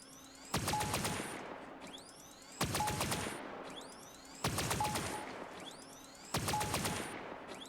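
Vehicle-mounted weapons fire in Crossout Legends as four evenly spaced bursts of rapid shots, each a loud clattering volley with a high whistling tail that fades before the next one starts.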